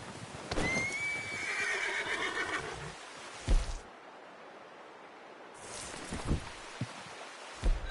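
A horse in a PS4 video game whinnies loudly near the start, followed by a few scattered hoof clops and soft rustling against a quiet background.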